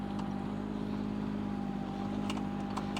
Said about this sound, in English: the engine just hums along